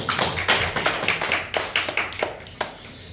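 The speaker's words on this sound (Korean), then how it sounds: "우리 하나님께 영광의 박수를 드리겠습니다." Members of a small church congregation clap to give glory to God, a loose scatter of individual claps from relatively few hands, fairly close and uneven, thinning out toward the end.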